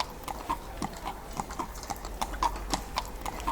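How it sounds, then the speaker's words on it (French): Horse-drawn carriage hooves clip-clopping on the cobblestone streets of 19th-century Brussels, a steady rhythmic trot of sharp clear strikes at moderate distance with no talking. "transport par voie de voitures conduites à chevaux, marquant les pavés des rues de Bruxelles"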